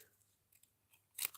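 Scissors cut through cardstock in quiet, close snips: a few faint clicks, then one sharp, louder crunching cut near the end, followed by a small snip, with no talking.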